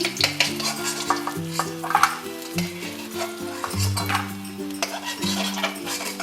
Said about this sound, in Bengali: মাছগুলো আমার লাল লাল করে ভাজা হয়ে গেছে আমি একটা পাত্রে তুলে নিচ্ছি